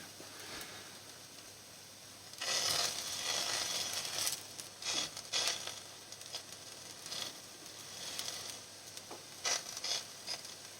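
Homegrown flatbread cooking in a hot pan gives a soft, steady sizzle that swells in bursts and fades back, close and fairly quiet, with no talking.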